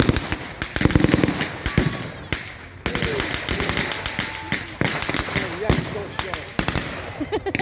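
Bursts of blank gunfire from a British .303 bolt-action rifle, Sten and Bren guns at an outdoor WW2 reenactment battle, sharp cracks and rattling volleys spread across the clip, near and loud, with voices talking over them.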